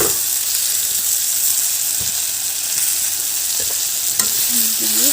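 Boiled jackfruit seeds fry with spices in a pan, a loud continuous sizzle and hiss close up, with occasional scraping taps of a spatula as they are stirred.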